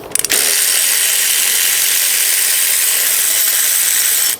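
A ratchet wrench cracks loose a 15 mm power steering pump bolt on a Holden Commodore with the 5.7 L LS1 V8, giving a sustained, close, steady ratcheting buzz after a brief clunk at the start.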